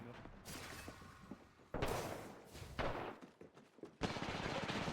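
Gunfire in the game Apex Legends, quiet bursts of rapid shots and sharp cracks in uneven clusters, separated by short gaps and mechanical clatter.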